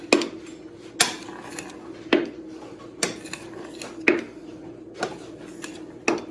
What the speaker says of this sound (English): I'm just going to go ahead and cut it into strips, just like so